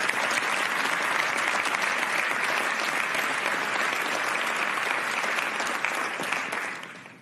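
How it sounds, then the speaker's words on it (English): A roomful of people gives sustained, even applause at a session on transforming the learning experience, dense clapping with no voices before it fades out at the end. "Une belle main d'applaudissements pour tous les gens dans la salle"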